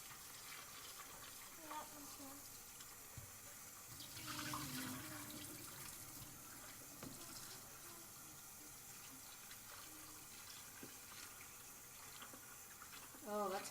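Water runs steadily from a tap while homemade butter is rinsed in a bowl, a quiet continuous hiss with brief splashes and swishes, and a louder splash near the end.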